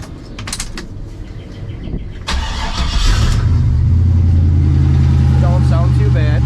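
A 5.3 LS V8 in a pickup truck with 2.5-inch true dual Flowmaster exhausts cranks over with a metallic clatter, catches and settles into a steady, loud, deep idle rumble, with some voices early on.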